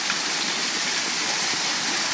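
Stormwater floods into an outfall structure at a clogged underground stormwater facility, producing a steady, loud, hissing rush of pouring water with no voices.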